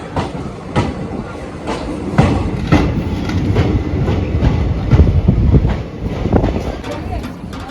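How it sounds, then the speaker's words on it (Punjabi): A passenger train pulls away from Kila Raipur station in Punjab, heard from on board as a loud, steady rumble with rhythmic wheel clacks. "ਅੱਗੇ ਚੱਲ ਪਈ ਟ੍ਰੇਨ ਆਪਣੀ"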